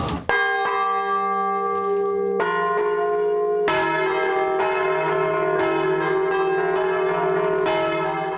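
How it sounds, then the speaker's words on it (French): Three carillon bells ring out in a slow tune, several struck tones overlapping with long ringing decay, loud and resonant with no voices. "Trésélé, c'est-à-dire jouer sur trois cloches"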